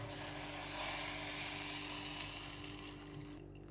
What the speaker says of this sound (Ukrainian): Перемішуємо це все і додаємо водичку.